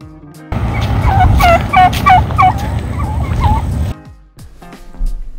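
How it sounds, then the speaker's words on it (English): A wild turkey in British Columbia's Columbia Valley lets out a loud, close, rattling gobble lasting a few seconds, then breaks off, with faint outdoor background around it. "Wild turkey."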